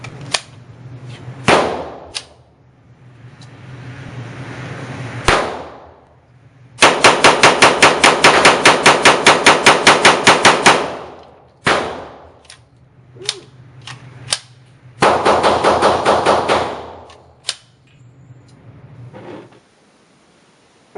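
A VMAC45 .45 ACP MAC-10 style pistol fires at a range: a few single sharp shots, then a long rapid-fire burst, scattered shots, and a second rapid burst, all loud and close.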